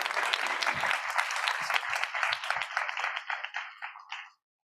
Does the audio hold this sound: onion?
no